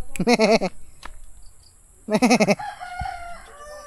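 A goat bleats twice nearby, two loud wavering cries separated by a short pause, followed by faint background noise.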